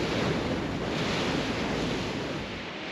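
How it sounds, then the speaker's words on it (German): Steady, loud rushing wind at the bow of a holiday boat cruising near Zaandam and Amsterdam, a continuous broadband roar that eases slightly toward the end, with no voices. "Hier vorne im Wind kann man es ganz gut aushalten."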